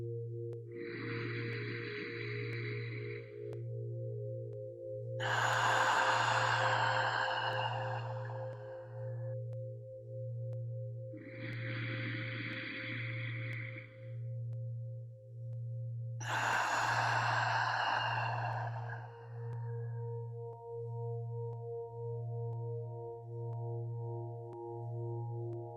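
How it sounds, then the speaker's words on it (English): Slow, deep breaths in through the nose and out through the mouth come in steady cycles with pauses between them, over a pulsing low drone and a sustained tone. "in through the nose, hold, out through the mouth, hold, and continue"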